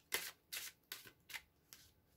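Oracle cards are shuffled in five quick, crisp riffles at an even pace, close up and quiet, with no talking.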